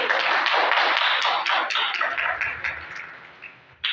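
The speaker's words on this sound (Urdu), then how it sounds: "اب ان کے لیے ذرا تالیاں." Congregation in a church service clapping together, a dense burst of many hands that swells, thins toward the end, then picks up again briefly; no talking over it.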